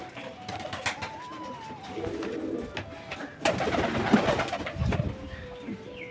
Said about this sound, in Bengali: এই খাঁচাটার মধ্যেই আমাদের না হলেও 7টা-8টা পায়রা আছে